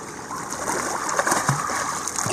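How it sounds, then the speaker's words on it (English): Water splashes and churns in a swimming pool, a close, continuous wash of sloshing and small splatters. "Go, splash."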